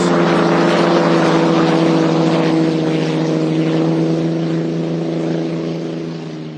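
A hydroplane racing boat runs past on the course at the 2024 Guntersville Hydrofest, its loud, steady, humming engine roar holding strong and then fading slightly as it moves away.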